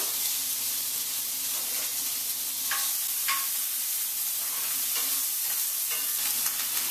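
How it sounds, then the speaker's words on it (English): Diced sweet onion sautéing in bacon fat in a cast iron skillet gives a constant close hissing sizzle, broken by a few light clinks of stirring. "To that, I'm going to add a half cup of diced onion, preferably sweet onion, and we're just going to saute that till it's nice and translucent."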